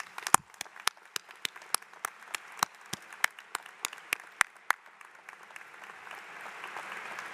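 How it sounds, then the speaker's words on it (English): A commencement audience at the Harpur College of Arts and Sciences ceremony applauds, with sharp, distinct claps that thin into a softer, more diffuse patter toward the end. "Please join me as we applaud the support of and dedication to the success of our students."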